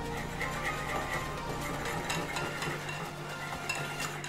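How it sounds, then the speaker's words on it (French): Flour, sugar and a pinch of salt are stirred together in a mixing bowl, giving a steady, continuous scraping and rustling close by, with no one talking. "Vous mélangez."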